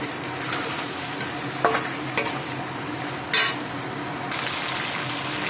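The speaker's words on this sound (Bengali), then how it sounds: "এইটাও কষবো 5 মিনিট।" Meat masala with green chilli and tomato being sautéed in a pan, a steady sizzle broken by a few sharp spoon scrapes and clinks as it is stirred, close and moderately loud.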